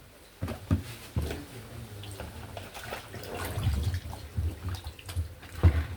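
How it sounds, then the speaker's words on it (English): Peeled bananas are washed by hand in a bowl of water for banana paste, with close sloshing and splashing in irregular bursts and no talk. "So I'm going to wash it now,"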